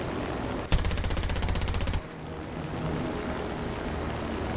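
Aircraft cannon fire in War Thunder, a loud, rapid burst of closely spaced shots lasting just over a second, then a quieter engine-like background rumble.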